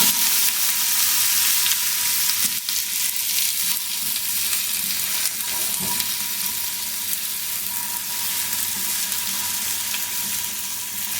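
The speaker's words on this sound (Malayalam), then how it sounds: "നമുക്ക് സ്ലൈസ് ചെയ്ത് വെച്ചിരിക്കുന്ന ആപ്പിൾ ഇതിലേക്ക് ചേർത്ത് കൊടുക്കാം" Sliced apples and almonds fry in butter in a pan, a continuous loud hiss of sizzling with a few soft stirring scrapes, close up and without talk.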